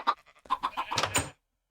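Chickens in a modded Minecraft base, a quick string of short clucks close by, rising into a brief squawk before falling silent.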